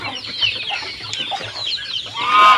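Bangkok chickens on a farm cluck and squawk close by, a busy overlapping flock chatter that rises into a louder cry at the end, with no talking.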